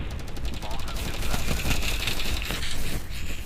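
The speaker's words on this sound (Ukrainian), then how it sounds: "хтось по мені стріляв" Rapid bursts of Counter-Strike 1.6 gunfire crackle through a dense, noisy mix, with overlapping shots and a voice speaking underneath.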